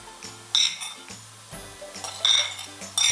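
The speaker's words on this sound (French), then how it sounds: "Donc, je mélange le tout et je vais farcir mes pommes de terre." Potato stuffing of chicken, capers and grated cheese being mixed in a bowl, with several sharp clinks of a utensil against the dish amid soft stirring scrapes, close and clear.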